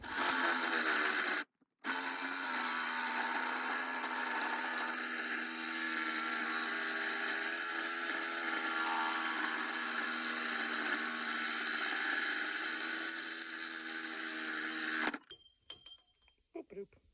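A worn old DeWalt drill drives a saw through material for a Ford Ranger 4x4 race build, giving a steady, loud mechanical whine that runs for about fifteen seconds after a brief break, then stops into short clatters.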